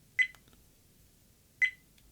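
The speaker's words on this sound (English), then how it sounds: "Obviously it's beeping with every single interaction." Redtiger F77 dual 4K dash camera giving two short, crisp electronic beeps at touch-screen presses, about 1.4 seconds apart, close and clear in an otherwise quiet room.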